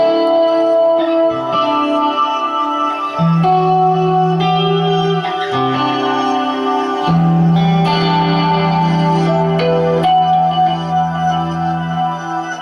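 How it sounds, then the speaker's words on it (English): Clean electric guitar tone runs through TC and Strymon Timeline effects, producing shimmering chorus and echo-laden, spacey sustained chords and notes that ring out and overlap for several seconds, with no voices. "there's like the effects from the TC and also the Strymon timeline, which makes those weird kind of space age kind of effects"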